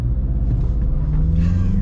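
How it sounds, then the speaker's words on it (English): Deep, steady engine rumble from a 2023 Mazda CX-50 Turbo held against the brakes, pitch climbing slowly as revs build, loud and close with no talk over it. "I'm gonna see if I can brake boost this here a little bit"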